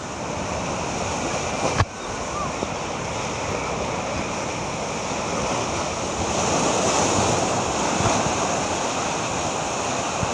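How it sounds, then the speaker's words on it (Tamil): Sea surf rolling steadily onto the Tiruchendur shore after the water suddenly receded about 100 feet, a continuous loud wash of waves with wind noise on the microphone and a brief knock near the start. "திருச்செந்தூரில் திடீரென 100 அடிக்கு உள்வாங்கிய கடல்."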